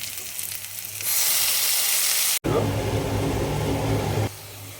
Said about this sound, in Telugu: ఇప్పుడు ఉల్లిపాయలు వేయాలి టమాటా ముక్కలు వేద్దాం